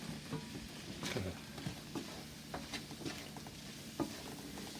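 Peas and hominy are stirred in a pan on the stove with a soft gentle sizzle underneath, scattered light scraping and clinks of the spoon rising at irregular intervals, close and quiet with no talk.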